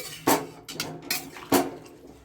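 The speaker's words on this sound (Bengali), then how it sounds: "এটাকে আমি ভালো করে নেড়ে চেড়ে দিচ্ছি" Pumpkin stalk curry is stirred in a pot, and a metal spoon knocks and scrapes against the sides in a few sharp, close clinks with brief pauses between them.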